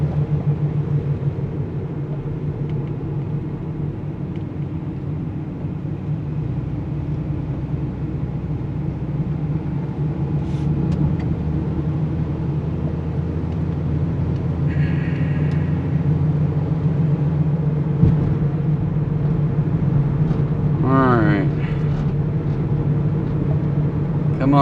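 A small car's engine drones steadily while driving on a road during a food delivery run, a constant low rumble with a mild rise as it accelerates, and a faint chirping sound briefly appears near the end.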